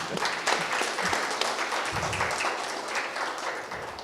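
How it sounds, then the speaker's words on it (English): Warm audience applause greets honored guests at a film master class, steady dense clapping filling the room for the full few seconds with no talk over it. "give a very warm applause to our very honorary guests"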